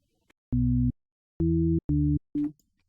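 Four short, pure, low synth tones play in a call-like rhythm, clean and steady, each a smooth sine bass note from FL Studio's 3xOsc with silence between.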